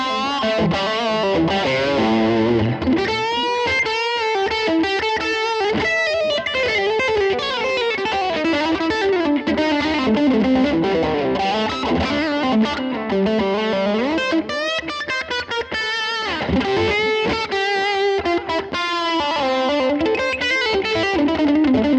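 Electric guitar played through distortion on a Line 6 Helix, a long continuous run of driven chords and riffs, loud and up front without any speech.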